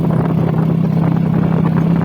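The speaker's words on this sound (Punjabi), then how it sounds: "ਇਹ ਮੋਟਰਸਾਈਕਲ ਜਿਹੜਾ ਆਟੋ ਹੈ" Motorcycle auto rickshaw engine in Lahore, a loud, close, continuous buzzing drone with steady throb and no pauses or voices.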